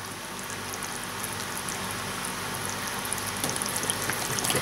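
Water pours steadily into a bowl of puto batter, making a continuous close hiss and splash of about five seconds with no talking.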